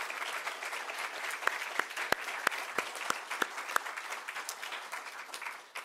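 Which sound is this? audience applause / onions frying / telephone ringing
audience applause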